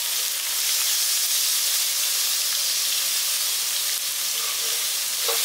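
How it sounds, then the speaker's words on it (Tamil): Garlic frying in a pan for pepper rice, giving a steady broadband sizzle and hiss throughout, close and continuous with faint stirring. "பூண்டு வந்து நல்லா வதங்கணும்."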